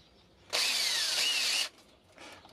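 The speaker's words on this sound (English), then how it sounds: "But we'll start with a smaller drill bit here." A power drill fitted with a small bit bores a starter hole in the part of a pileated woodpecker whirligig kit, a loud close whine lasting about a second, then a brief fainter burst.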